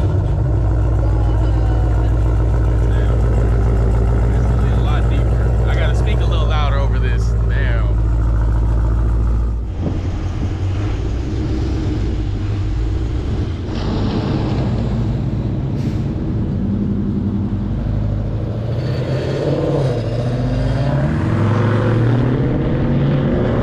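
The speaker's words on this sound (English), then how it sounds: "this thing sounds like a big boy Challenger" A 6.4 Hemi Dodge Challenger fitted with Stainless Works long tube headers rumbles loudly and deeply at close range, its exhaust note swelling and settling through revs, with people talking over it.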